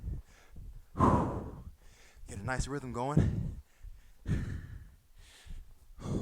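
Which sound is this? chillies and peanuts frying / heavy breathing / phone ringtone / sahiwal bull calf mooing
heavy breathing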